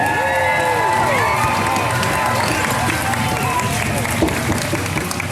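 Spectators at a monster truck racing event cheer and applaud in a continuous, noisy roar, with shouts and whistles rising over the dense crowd sound.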